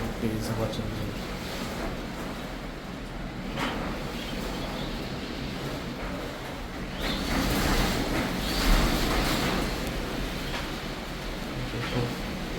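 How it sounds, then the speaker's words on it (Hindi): Strong wind blowing outside a balcony, a steady broad roar that swells louder midway, with leaves rustling and someone talking over it throughout. "तो तेज़ हवा चल रही है।"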